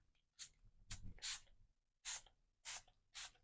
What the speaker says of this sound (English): I'm going to go ahead and spray in this Delusions ink